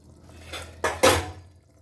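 A metal pressure cooker lid clanks and scrapes in a few quick, close knocks as it is opened after one whistle, with a faint watery hiss beneath.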